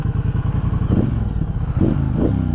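A 2021 Triumph Speedmaster cruiser motorcycle engine turns over and fires into a steady low idle with small throttle blips, loud and close, with no talking.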